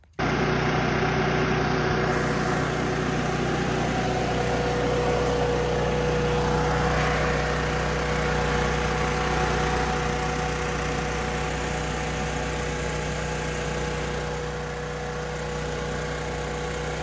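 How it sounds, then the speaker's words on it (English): A portable generator runs steadily in a workshop with no electricity, a constant droning hum with a strong low tone that holds unchanged and close throughout, with no voices. "so I can run that generator down here in the shop that doesn't have any electricity"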